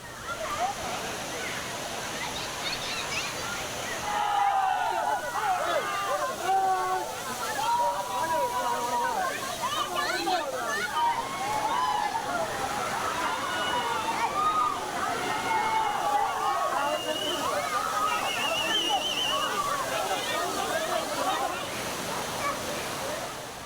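Aliyar Kaviaruvi waterfall rushes and splashes in a constant broad roar, with voices of visiting tourists mixed faintly into the water noise.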